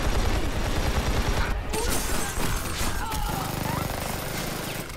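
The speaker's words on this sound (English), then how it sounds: "I'm shooting a pilot" Gunfire from the video game Army of Two: The Devil's Cartel, a dense, continuous clatter of shots and mechanical noise running throughout, with a voice talking over it.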